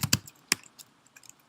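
Keystrokes on a computer keyboard during a Python data-analysis lesson, a quick burst of two sharp clicks, then a single loud click and a few lighter scattered taps, close and alone without talk.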